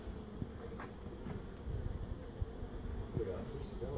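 Bees buzz at an opened hive during an Australian barbecue, a faint, steady hum with a few brief louder passes of individual insects close by.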